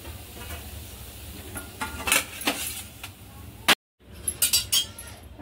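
Cooked thalipeeth, a Marathi spiced flatbread, being lifted from the pan onto a plate: scattered clinks and scrapes of a spatula on metal over a faint sizzle, with a brief cut to silence midway.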